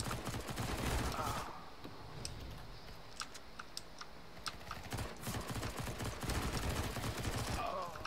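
Rapid bursts of gunfire in the Counter-Strike game mode Arms Race crackle loud and dense at the start and again near the end, with a sparser stretch of scattered shots in between.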